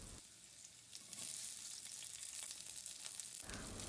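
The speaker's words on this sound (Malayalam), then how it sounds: "ഓയിൽ ചൂടാകുമ്പോൾ അതിലേക്ക് കട്ട് ചെയ്ത സവാള ഇട്ട് കൊടുക്കുക." Chopped onion hitting hot oil in a pan, a soft steady sizzle that swells louder after a second and carries on with faint scraping, close and without any voices.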